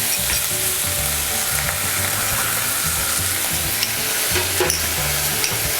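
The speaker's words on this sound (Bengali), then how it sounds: "প্রথমে পেঁয়াজ বাটাটা দিয়ে একটু নেড়ে নেব" Onion paste sizzles steadily in a hot pan for hilsa biryani, a close, continuous frying hiss with scraping stirs of a spatula underneath, no voices.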